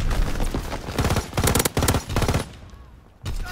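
Machine gun fire from an MG in a first-person shooter game, loud bursts of rapid shots in several clusters with short gaps, then a brief lull before another burst starts.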